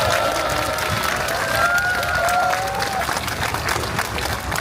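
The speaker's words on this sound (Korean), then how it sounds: "큰 박수 부탁드리겠습니다" Sustained applause from a crowd at a rally, steady and dense clapping throughout with a faint murmur of voices underneath.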